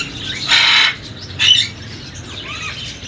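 Budgerigars at a Sunday bird market in Rawalpindi give two loud bursts of squawking chirps close by, with quieter chatter in the background.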